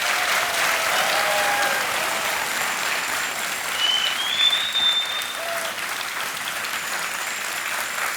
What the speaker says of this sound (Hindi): तालियां बजनी चाहिए जोर से।